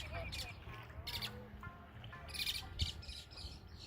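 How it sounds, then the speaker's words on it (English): A bird squawks and chirps in a few sharp calls at a seaside state park campground on a rainy day, heard close over steady background noise. "Bird is noisy."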